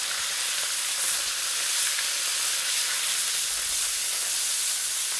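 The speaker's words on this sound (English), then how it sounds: "get it nice and sizzling, and let's go ahead and add this wonderful whitetail venison" Whitetail venison sizzles loudly and continuously in hot garlic oil in a pan, a bright, even crackling hiss with no voices.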